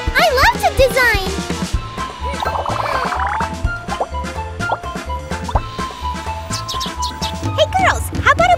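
A cartoon bird chirps in a smoggy city, with bright rising tweets heard among bouncy music and children's cartoon voices.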